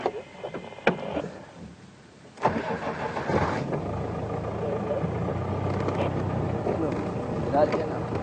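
A safari vehicle's engine starts and revs up, then settles into a steady, close rumble as it pulls away, with faint voices early on.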